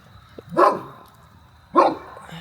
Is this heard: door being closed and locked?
no